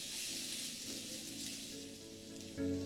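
Chopped ginger frying in hot white oil in a kadai makes a soft, continuous crackling sizzle like light rain, with a brief louder burst near the end.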